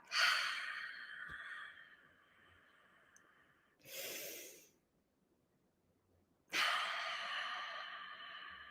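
A person breathes slowly in through the nose and out, with three distinct breaths separated by near silence: a long airy exhale, a shorter inhale, then another long exhale, close and fairly soft.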